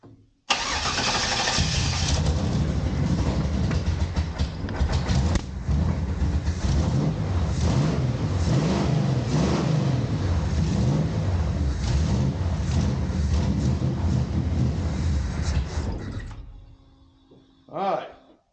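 A car engine roars steadily and loudly for most of the clip after an initial start, with the pitch rising and falling as the gas is pressed, then it cuts out and a brief faint sound follows.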